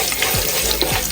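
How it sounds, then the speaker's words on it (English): Jamaican chicken curry with curry powder of herbs, turmeric and spices sizzles steadily in a pot, with a couple of soft scraping stir strokes over the hiss. "Give it a stir."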